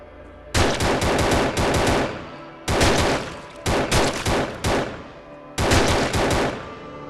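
Automatic gunfire in the mobile shooter game Outbreak Dead City, loud sustained rapid-fire bursts in three long volleys separated by brief gaps, close and dominant with no talk.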